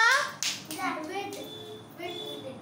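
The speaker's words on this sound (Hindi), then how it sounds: "वेरी गुड ताली मार दियो" Children in a classroom clap their hands in brief bursts between a voice and an adult speaking over it, loud and close.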